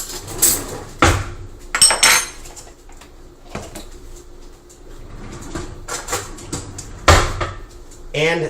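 Metal cutlery clatters and clinks while a spoon is fished out in a kitchen, with a few sharp bursts of rattling and knocks and quieter rummaging between them.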